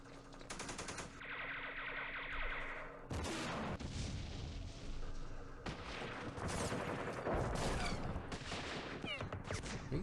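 Enemy fire in Campaign Series Middle East at the Battle of Jerusalem, with dense rattling machine-gun bursts and heavy booming impacts that go on almost without a break, loud and close.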